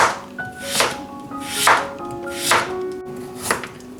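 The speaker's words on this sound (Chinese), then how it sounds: "南瓜我们切薄片或者小块，方便蒸软" Pumpkin is chopped into thin slices with a knife on a board, four crisp, evenly spaced chops close up and loud, with no talking.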